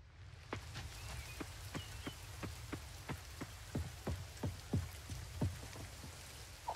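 Steady rain falls in the Coral Island farming game, a constant patter with scattered heavier drops tapping at an irregular rhythm, fairly faint and with no voices.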